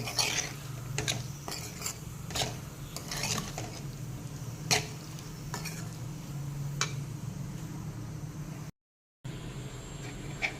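A spoon stirs instant pickle ingredients in a pan, giving repeated scraping and clinking strokes over a low, steady sizzle. The sound is close and continuous, with a short silent gap near the end.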